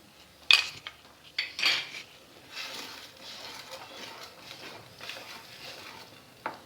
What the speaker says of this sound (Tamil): மீடியம் ஃப்ளேமில் வச்சு கைவிடாமல் கிண்டிகிட்டே இருக்கணும்